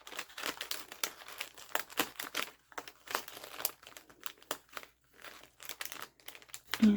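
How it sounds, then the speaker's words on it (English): Gift wrapping paper folded by hand over a present, giving close, soft crinkles and crackles in uneven bursts with short pauses, ending in a slightly louder rustle. "So I'm going to fold one side over."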